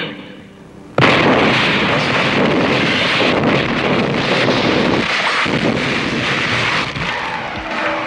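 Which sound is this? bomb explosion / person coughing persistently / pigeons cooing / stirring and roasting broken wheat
bomb explosion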